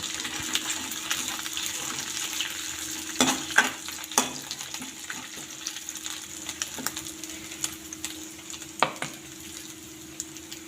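Grated coconut being stirred into a spicy green peas and tomato bhaji, a low steady sizzle under a scattering of spoon scrapes and knocks against the pan, with no talking.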